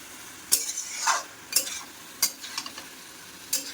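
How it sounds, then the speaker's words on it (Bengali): Spices being stirred and sautéed in a pan for a vegetarian dish, with about five quick scraping strokes of a spoon over a light sizzle, close and distinct with no talking. "এবার সব দিয়ে ভালো করে একটুখানি কষিয়ে নেব"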